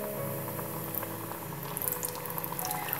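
Chicken wings for spicy KFC-style hot wings bubbling and sizzling steadily in hot frying oil, a continuous moderate crackle with scattered pops, no talking.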